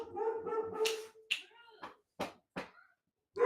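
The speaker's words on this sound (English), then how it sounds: "my dogs are going off on something" Several dogs bark in short sharp bursts indoors, close and loud, with a person talking over the first part and barks alone after.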